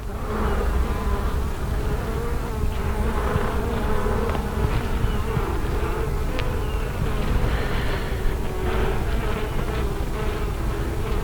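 Dense, close buzzing of many honeybees on a hive frame, a steady droning hum with individual insects passing near, no talking.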